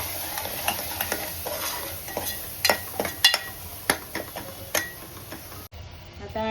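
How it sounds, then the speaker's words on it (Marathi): Chilli powder and homemade garam masala sautéing with tomato in hot oil, a soft sizzle beneath repeated sharp scrapes and clinks of a spoon against the pan, close and clear, ending abruptly. "हे छान आपण मस्त परतून घेऊया"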